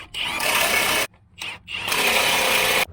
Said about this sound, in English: Now I'm going to tighten them up.